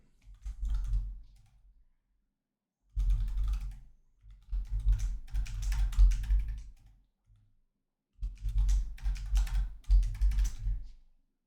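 Username and password typed on a Mac keyboard during new Mac setup, three separate bursts of quick, close key clicks with silent pauses between them.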